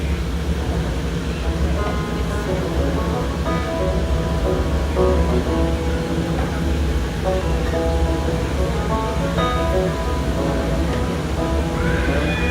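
Aboard the Mark Twain riverboat at Disneyland, a steady, loud wash of water and engine rumble fills the air as the boat cruises the river, with faint voices and tones from the surroundings underneath.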